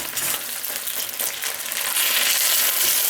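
MRE breakfast food fries in oil in a pan, spattering and crackling with a dense, close hiss that grows slightly louder toward the end, with no one talking.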